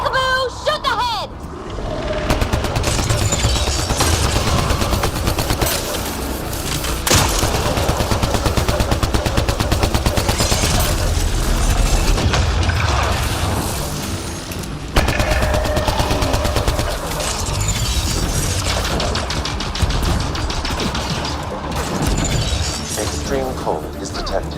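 Rapid gunfire in the PC game Mass Effect: Andromeda, with dense automatic bursts and sharp impacts that continue nearly nonstop, loud and close, and voices talking underneath.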